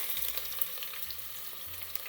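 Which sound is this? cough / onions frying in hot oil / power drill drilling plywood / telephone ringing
onions frying in hot oil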